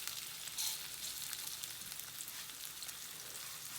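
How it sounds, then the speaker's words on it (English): Diced potato frying in a couple tablespoons of hot olive oil at temperature, a steady close hiss and crackle of sizzling that continues evenly throughout. "I put a couple tablespoons of olive oil in the oil. It's up to temperature. And now we're going to add the potato."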